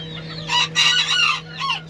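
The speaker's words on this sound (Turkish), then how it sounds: "Süs tüylerimiz yeni ötüyor bu arada" A young rooster crows close by, a drawn-out call in several bursts over a steady low background hum.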